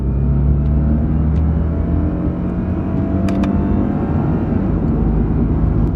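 A car engine droning at steady revs, a loud low rumble from inside the vehicle with a slight change in pitch partway through as the automatic transmission upshifts.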